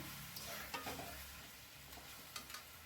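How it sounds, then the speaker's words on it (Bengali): Mutton is slowly sautéed in a wok, with steady stirring and scraping over a low, continuous sizzle. It sounds close and fairly quiet, with occasional clinks and no talk. "দিয়ে আস্তে আস্তে আমি মটনটা অনেকক্ষণ ধরে কষাতে থাকবো"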